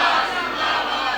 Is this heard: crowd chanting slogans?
yes